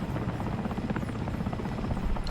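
A Mi-8AMTSh transport helicopter in the War Thunder video game flies with a steady, loud rotor thrum and turbine roar that holds constant throughout.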